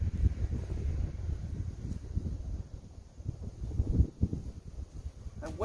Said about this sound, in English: That wind is just, it doesn't want to stop.